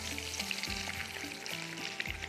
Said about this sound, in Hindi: बड़े अच्छे से कबाब जो है ये फ्राई हो रहे हैं